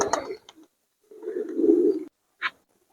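A pigeon, a high-flying Pakistani breed, coos in short low murmurs near the microphone, with one longer rolling coo in the middle and a brief sharp call at the end, among quiet gaps.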